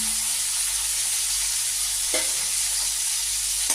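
Onion with two dried red chillies frying in oil gives a dense, even sizzle up close, broken by a couple of brief stirring scrapes, with no talk.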